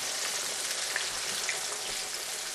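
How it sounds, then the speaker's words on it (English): A flour-dredged pork chop fries in oil kept on high heat, giving a loud, steady hiss and crackle of sizzling with scattered pops, close and continuous. "we just lay it down in our oil just like that"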